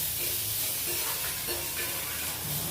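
Tomatoes frying in a pan with a bhaji of long beans, stirred continuously, giving a steady, close, loud sizzle and hiss with soft scraping from the stirring.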